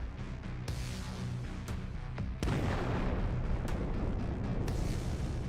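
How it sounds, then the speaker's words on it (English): An Abrams tank fires its cannon at close range at a bunker in enemy trenches, producing about five sharp, heavy booms at irregular intervals over a constant rumbling background. "The Abrams tank approached the North Korean trenches at close range and began firing at their bunker"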